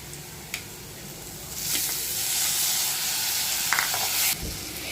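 Onion and chopped tomato frying in a pan for egg pasta, giving a steady close sizzle that swells from about halfway, with a few light clinks from stirring and no talk.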